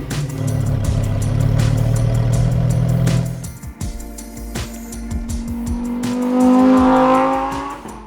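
A 2023 Lamborghini Huracan STO with a 5.2-litre V10 drives on Melbourne roads, its engine droning loudly, then dropping off with crackles and pops before revving up again, rising to a high, strained wail.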